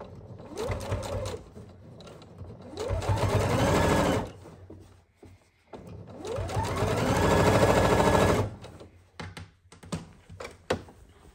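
A sewing machine stitches a seam through velvet in two sustained bursts of rapid whirring with a short pause between, ending in a few brief clicks and jabs, close and fairly loud.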